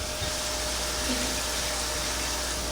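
A household tap runs at full pressure during a home inspection, a steady close hiss and rush of water with no break across its few seconds and no talking.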